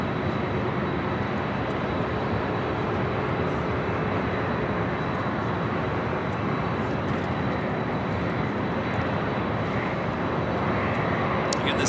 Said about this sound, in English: this Delta flight heading to Honolulu, a 25-year-old 767-300ER